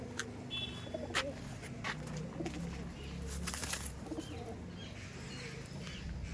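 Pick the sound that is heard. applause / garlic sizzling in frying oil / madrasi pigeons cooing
madrasi pigeons cooing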